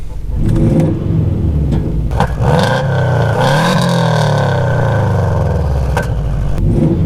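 A turbocharged Subaru with a boost leak runs close and loud, its engine rising in a long rev that climbs and sweeps back down, then settles into a rough, throaty idle.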